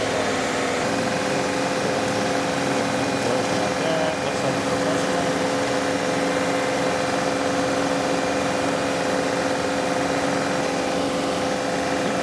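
Compact tractor running a boom flail mower beside a pond bank, a loud, continuous engine drone with whirring blade noise that holds steady throughout.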